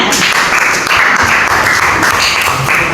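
A classroom of students applauding, a loud, dense burst of clapping that carries on without pause for about three seconds, close by and filling the room.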